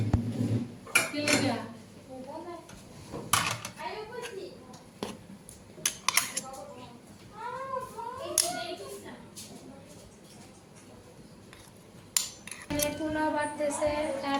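Plates and spoons clink in scattered sharp taps as pulao is dished out at a home meal, mixed with ongoing chatter from several people, including a child.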